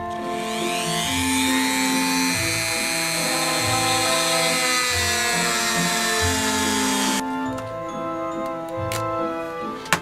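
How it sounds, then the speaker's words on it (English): A power drill whines steadily at close range for several seconds while drilling through leather, its pitch shifting slightly, then cuts off, leaving a quieter hum and a final click. "I could just use a power tool and drill a hole through"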